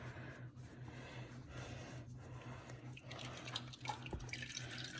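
Engine oil drains from a John Deere 1025R tractor into an oil pan with a faint, steady trickle and some soft drips and rubbing noises, heard close by.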